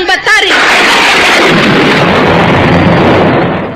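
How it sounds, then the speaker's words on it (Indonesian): Thunder in a radio drama: a single loud, close, rolling crash that swells quickly and rumbles on for several seconds across a broad roar before fading at the end. "Petir yang menjawab suaramu, Uma Durga."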